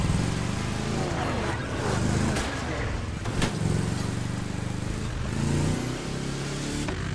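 Volkswagen car engine in Motorfest driving with a failing transmission, a steady loud droning rumble with shifting revs, with a voice talking over it throughout.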